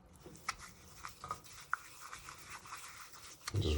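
A shaving brush is worked into wet lather with quick, scratchy rubbing strokes that come in soft, irregular bursts, close up and quiet, before a heavier handling rumble at the end.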